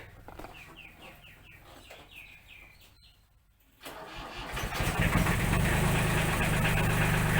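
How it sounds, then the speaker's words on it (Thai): A farm tractor engine cranks and catches after rooster crowing and clucking nearby, then settles into a loud, steady running rumble close to the microphone during a disc plough change. "ติดเครื่องรถเลยครับจะยยกเอาคานผ่านออกครับ"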